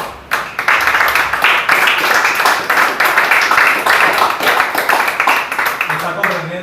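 A church congregation claps and praises together, dense steady clapping with mixed voices calling out over it for several seconds before it thins at the end.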